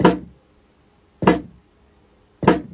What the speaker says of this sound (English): Let's put the snare in first.